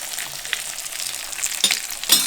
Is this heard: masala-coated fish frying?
yes